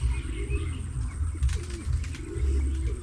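Pigeons near an aviary, with soft repeated coos and faint chirps close by against a low outdoor background rumble.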